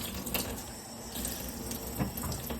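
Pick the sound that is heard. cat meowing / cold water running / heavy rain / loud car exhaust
cold water running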